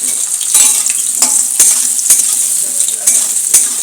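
Whole spices (bay leaf, cardamom, cloves, cinnamon and mace) fry in hot oil for a chicken curry, giving a steady close sizzle broken by sharp metallic clinks of a stirring utensil, with no talking.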